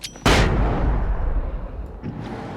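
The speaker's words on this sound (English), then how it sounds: "Flashbang out." A flashbang grenade goes off in the video game Alan Wake: one sudden, loud blast that rolls into a long, rumbling decay lasting about two seconds, with no voices over it.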